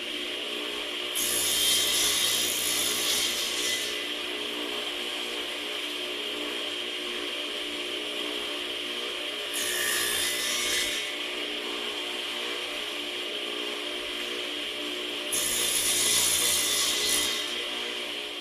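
A Sears Craftsman table saw makes shoulder cuts in wood with a miter gauge and stop block, its steady motor hum broken by three loud, bright bursts of blade biting into the stock.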